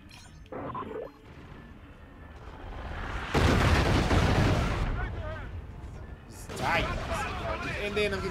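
Loud gunfire and blasts fill a Call of Duty Infinite Warfare campaign firefight. A dense burst swells near the middle of the clip, and heavy noisy rumble keeps going around it.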